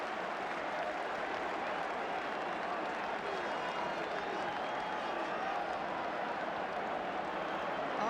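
Arsenal supporters applauding in a football stadium during an Arsenal v Spurs match after a goal, a broad, steady wash of crowd noise and clapping at moderate distance throughout.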